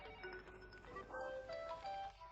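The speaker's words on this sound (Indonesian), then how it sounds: "Cepat jawab, teleponnya sangat berisik." A mobile phone belonging to someone else rings insistently in an indoor setting, its repeating electronic tones carrying steadily over a busy background for the whole stretch.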